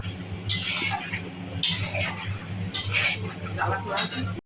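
Half-cooked mutton is stirred with spices in a pot, with metal spoon scrapes and clinks against the pot over a steady low cooking hiss, close up.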